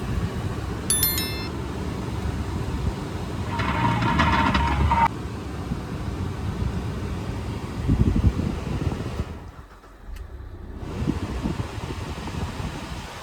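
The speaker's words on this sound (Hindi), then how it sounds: "मतलब ये एसी का ब्लोअर ऑन करते हैं।" A car's AC blower fan runs through the dashboard vents with a steady airy whoosh, joined by a few light clicks and clinks early on and dipping briefly near the end.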